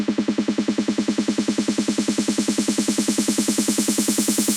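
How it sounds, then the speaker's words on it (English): A simple synthesized snare drum roll for a trance track, a rapid even run of about forty hits that brighten as it builds, loud and alone. "And a very simple snare roll."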